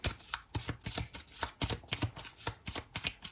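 Tarot cards shuffled by hand for a reading, a close, quiet series of soft riffling snaps and papery slaps in a steady rhythm, with no voice over them.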